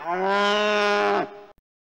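A buffalo lets out a single loud, close moo that holds for more than a second and then cuts off abruptly.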